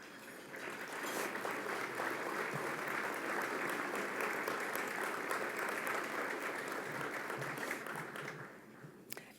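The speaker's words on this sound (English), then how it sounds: "please stand up and take a round of applause." Sustained audience applause for sponsors at an annual meeting, a dense, steady clapping from a large crowd that continues for about nine seconds before tapering off at the end.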